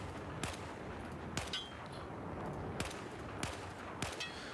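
Five sharp, evenly spaced single gunshots from a rifle in Battlefield 4, fired one at a time in single-fire mode, each a crisp loud crack about a second apart over steady game ambience.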